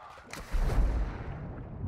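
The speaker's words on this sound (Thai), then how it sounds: "ได้ยินเสียงปืนทางซ้าย" Gunfire in Call of Duty Modern Warfare II DMZ, a muffled burst of shots from somewhere to the left, quiet and a short way off.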